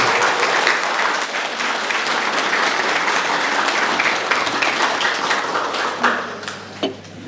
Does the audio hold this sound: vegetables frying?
no